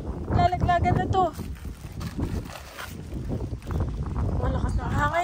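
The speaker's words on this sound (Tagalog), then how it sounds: "Lakas ng hangin. Lakas ng hangin." Wind buffets the microphone in broad low rumbling gusts, with people talking over it near the start and end.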